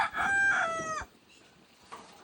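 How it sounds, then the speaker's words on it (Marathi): Chickens that have come to feed, with one loud rooster crow up close followed by softer clucking and rustling. "हा काय त्या कोंबड्या आल्यात खायला"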